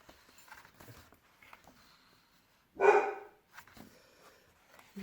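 A dog gives a single loud bark-like burst midway through an otherwise quiet room, with faint low rustling before and after.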